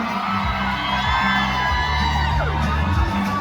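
A large crowd screams and cheers continuously, a dense wall of shrill voices and whoops that stays loud throughout.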